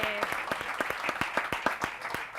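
Steady, evenly spaced clapping from an audience at a special news broadcast about a milk collection project, each clap sharp and distinct, with a brief voice at the start.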